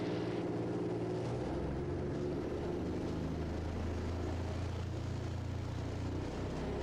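Raptor prototype aircraft in a high-speed taxi down runway 35, a steady loud engine drone with low rumble and broadband wind noise throughout, no voices.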